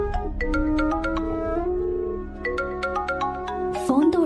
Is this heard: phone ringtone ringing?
yes